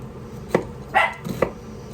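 A puppy shut in her pen in a home kitchen gives two or three short, sharp barks spaced about a second apart, fairly close and loud, with no talking over them.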